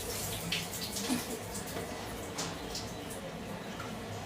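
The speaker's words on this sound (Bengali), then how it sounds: "তো চলো আমি এবার চালটা ধুয়ে নিই।" Rice being washed by hand in water, with steady splashing and sloshing that carries on throughout, close and moderately loud.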